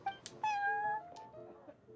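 A cat in the Genshin Impact video game gives a clear, drawn-out meow followed by a softer trailing mew, fairly quiet and alone.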